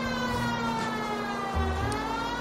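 A police car siren in the game L.A. Noire wails continuously with a steady tonal pitch over low engine rumble, sounding moderately loud throughout with no talking.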